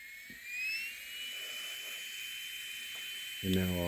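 A small fan whirs with a steady high whine and soft airy hiss, fairly quiet and close, with a brief voice near the end.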